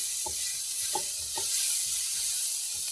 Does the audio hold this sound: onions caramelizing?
yes